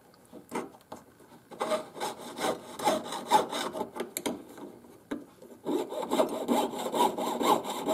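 A jeweler's saw cuts precious metal at an angle, freehand, to trim a circle from a square piece: a close, steady rasping stroke rhythm with brief pauses, resuming at a quicker, denser pace.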